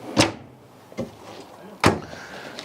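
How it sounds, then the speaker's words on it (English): Three sharp thuds and slides ring out at roughly even spacing as a pull-out kitchen drawer in a 2015 Winnebago Vista 36Y Class A motorhome is opened and shut, close and crisp, with quiet rattles between. "You got a nice cabinet with a pull-out drawer"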